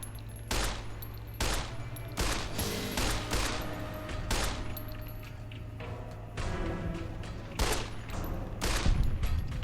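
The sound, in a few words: weathered 10mm pistol gunfire in video game Fallout New Vegas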